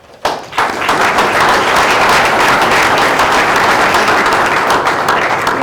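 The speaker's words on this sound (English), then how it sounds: "round of applause for Nathan." Members of a crowd at a school board of education meeting burst into loud, dense applause that starts abruptly and continues evenly for several seconds.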